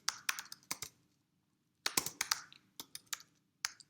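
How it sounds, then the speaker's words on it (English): Someone types on a computer keyboard at a desk, pressing Tab to complete commands: quick bursts of crisp, close key clicks separated by short pauses, with no voices. "so I hit tab on my keyboard"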